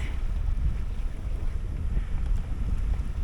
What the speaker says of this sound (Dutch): We hebben weer wat wind.